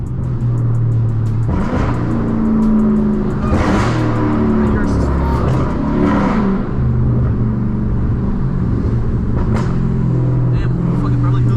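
A 1000hp Dodge Challenger Hellcat Redeye at night, its loud exhaust rumbling close up as the engine blips through several downshifts, with people talking over it.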